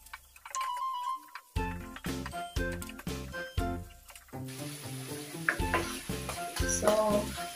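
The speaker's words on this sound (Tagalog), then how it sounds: "Then, mix lang natin." Pork ribs stirred in a pan, a series of rhythmic knocks and scrapes of a utensil against the pan over a soft sizzle, close and moderately loud, with music running underneath.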